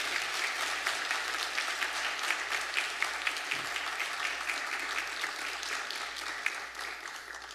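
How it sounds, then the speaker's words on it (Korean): A Korean church congregation applauds at a Sunday worship service to welcome the pastor. The clapping is steady and continuous and stays fairly quiet throughout, with no talking over it. "우리 박철현 목사님 나오실 때 박수로 환영하겠습니다."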